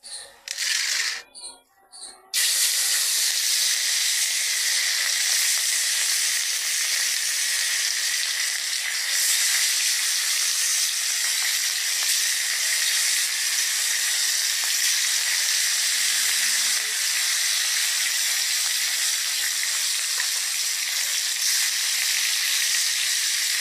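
Hilsa fish, rubbed with salt and turmeric, fries in hot oil with a steady, bright sizzle and hiss that runs continuously and fairly loud after a brief, uneven start.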